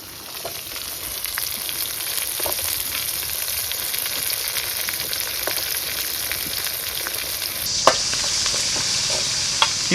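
Garlic sizzling in a pan with pepper and cumin for a pirandai chutney, a steady close frying hiss with occasional stirring scrapes and a brief clatter near the end, no talk.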